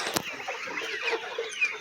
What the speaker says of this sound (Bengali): এই যে পানি খাচ্ছে মুরগিগুলো